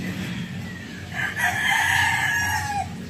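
A rooster crows once at a chicken coop, a clear drawn-out call of moderate loudness over low background rumble.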